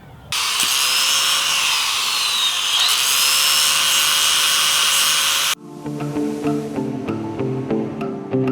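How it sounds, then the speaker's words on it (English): An angle grinder grinds a weld off a Porsche 944 shift linkage, a loud continuous harsh metallic whine that cuts off abruptly partway, followed by quieter clattering and handling noises. "then I'm going to grind this weld off"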